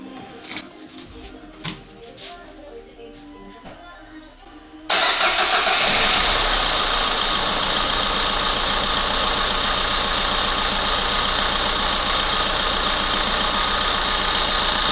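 A Renault Kangoo 1.5 dCi diesel engine cranks and catches after a few quiet clicks, then settles into a loud, steady idle that holds close by.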